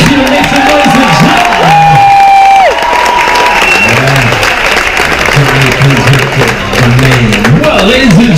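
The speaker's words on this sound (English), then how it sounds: "how about a round of applause for your cruise director? Let's give him some noise" Crowd of passengers applauding and cheering for the cruise director at an evening quest game show aboard a cruise ship, dense continuous clapping with whoops and shouts, loud and close throughout.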